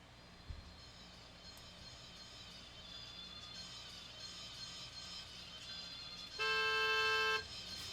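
A single steady car horn blast of about a second from a 2020 Tesla Roadster sounds clearly near the end, after several seconds of quiet low background hum.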